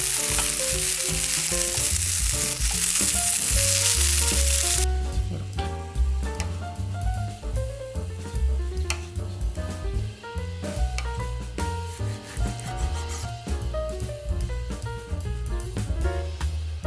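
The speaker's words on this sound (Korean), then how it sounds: "약한 불로 약간 노릇노릇하게 이렇게 구워주세요" A steady hiss of napa cabbage rolls sizzling gently in a pan over low heat fills the first few seconds, then soft background music carries on over fainter frying.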